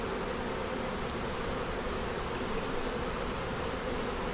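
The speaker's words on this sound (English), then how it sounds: "shake all these bees out of here" Honey bees drone steadily inside an opened hive box as they are shaken out, a dense, continuous buzz held close and even throughout, with no voices.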